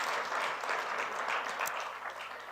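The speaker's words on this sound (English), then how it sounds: "And we shall keep on clapping hands for that" Faint, steady applause from an audience at a live interactive session, a dense wash of hand clapping heard from a distance with no clear individual claps standing out.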